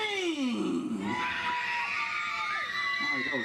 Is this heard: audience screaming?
yes